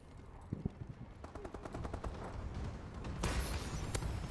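A bombing run airstrike in the video game Call of Duty: Advanced Warfare, with rapid staccato gunfire-like bursts building into a heavier rumbling roar of explosions, moderately faint.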